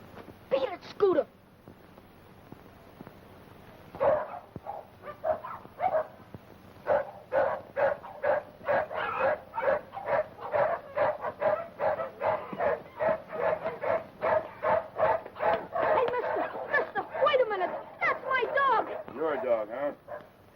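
A small dog named Scooter yips and barks in quick rhythmic bursts, mixed with whimpering and whining, fairly close. A person speaks briefly at the start, then the barking continues almost without pause.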